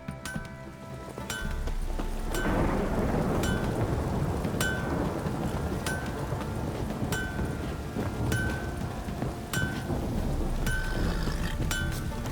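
Heavy rain pours steadily in the video game The Witcher 3: Wild Hunt after a brief quieter start, with rumbling low thunder beneath and occasional sharp ticks layered on top.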